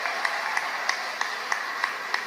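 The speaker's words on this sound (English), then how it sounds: "Give these children a round of applause." Claps ring out for children at a Ramayan quiz prize-giving, evenly spaced single claps in a steady rhythm over a soft background hum.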